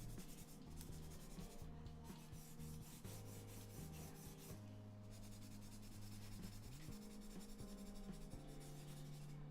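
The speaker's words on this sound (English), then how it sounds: "use the side of that pencil" A pencil shades on paper with the side of its lead in a caricature drawing, a soft continuous scratchy rubbing in quick back-and-forth strokes, close and quiet, with no talk.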